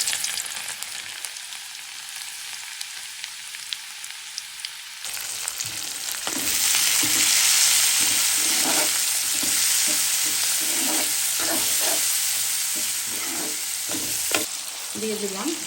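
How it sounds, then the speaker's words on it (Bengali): Chopped garlic hits hot oil with a sudden loud sizzle that stays steady and bright, with scraping stir strokes and clinks mixed in, cooking for a bean and potato stir-fry. "দিয়ে দিলাম তেল, একবারেই বসাই দিব। দিয়ে দিলাম রসুন কুচি"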